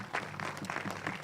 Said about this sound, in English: So let's give our former board members a round of applause.